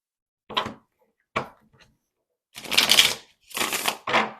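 Tarot cards shuffled in close bursts, a couple of short riffles followed by longer, louder shuffles, in a quiet room with no talking.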